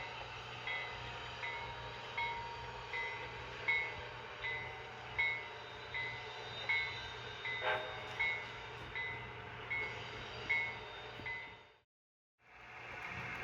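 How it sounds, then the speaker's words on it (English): A Santa Fe Railroad diesel helper locomotive drones at a distance, with rhythmic clacking of wheels over rail joints, fading briefly before the rumble returns. "The Santa Fe called in a helper locomotive."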